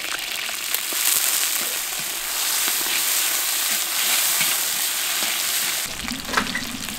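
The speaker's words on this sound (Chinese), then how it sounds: "锅里边多少油，放入葱姜蒜，放入香料、花椒、大料、" Scallion, ginger, garlic and spices such as Sichuan peppercorn, star anise and dried chilies fry in oil in a wok, giving a loud continuous sizzle with occasional stirring scrapes, a brief shift near the end.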